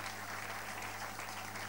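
A church congregation claps in a sustained burst of applause during a service, a dense, even wash of hands with a faint crowd murmur underneath.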